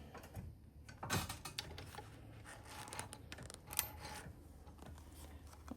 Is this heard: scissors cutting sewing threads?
yes